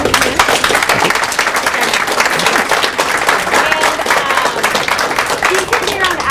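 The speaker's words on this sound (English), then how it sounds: "So, please give Tamir a round of applause." An audience applauds after a conference talk on social games, brisk dense clapping that stays steady and fairly close throughout, with a few voices mixed in.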